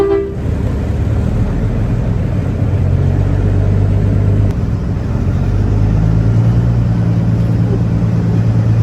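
A truck drives along a road north of Seattle, Washington, its engine giving a steady low rumble with shifting drone and road noise, continuous and close throughout.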